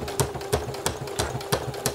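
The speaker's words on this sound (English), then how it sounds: "So make sure you do your back stitch." A sewing machine stitches appliqué with a back stitch, its needle thumping in a steady mechanical rhythm of about three beats per second over a continuous motor hum, close and fairly loud.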